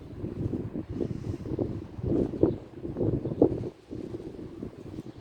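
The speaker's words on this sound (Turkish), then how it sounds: "Şu anda rüzgar var." Outdoor wind gusts buffet the microphone while a kite is flown, a low rumbling roar that swells and drops in uneven bursts, loudest in a few sharp gusts around the middle, with no one speaking.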